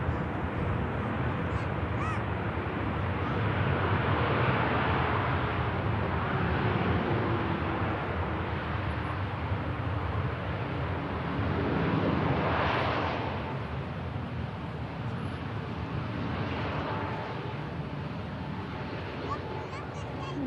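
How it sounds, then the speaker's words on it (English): TUI Dreamliner airliner rolling along the airport runway after touchdown, a broad continuous roar of jet engines and wind that swells and eases, with people talking faintly underneath. "TUI Dreamliner vacating right in front of us"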